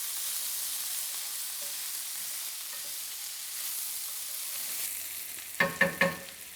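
Garlic and chilies sizzle in a hot frying pan with a constant bright hiss, near and steady, then a few quick scraping stirs near the end.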